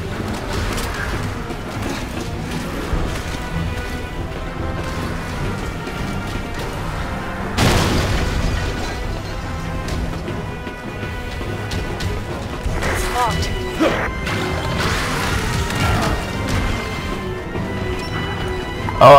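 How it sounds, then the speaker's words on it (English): Remote bombs go off in Resident Evil 6 gameplay, a loud booming crash near the middle standing out over continuous rumbling game noise, with further impacts and clatter later on. "Remote bombs here."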